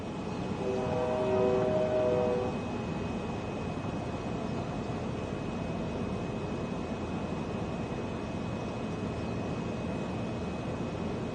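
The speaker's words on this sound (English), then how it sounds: "Oh, there's the train." A train passes during a tornado storm chase near Kellogg, Iowa, its horn blaring for a couple of seconds before fading into a steady, distant rumble and wind-like hiss.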